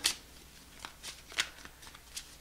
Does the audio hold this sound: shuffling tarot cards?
yes